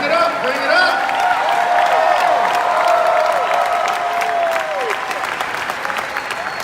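Loud, sustained audience applause with cheering fills a motivational speaking event featuring Les Brown, dense clapping from a large crowd that holds steady before easing off slightly toward the end.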